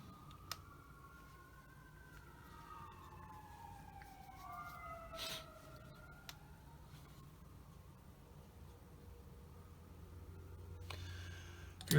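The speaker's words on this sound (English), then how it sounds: "You're hearing sirens in the background." Distant emergency sirens wail outside through an open window, their pitch sweeping slowly up and down at a faint level against quiet indoor room tone, with no talk.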